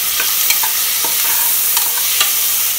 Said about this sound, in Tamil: இது கொஞ்சம் வாசனை போகிற அளவுக்கு வதங்கட்டும்